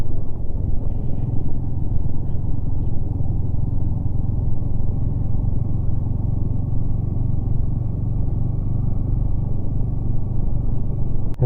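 Rented motorcycles ride off-road between Turtuk and Shyok in Ladakh, a loud, close, unbroken engine rumble with steady drone and rough clatter throughout, no pauses.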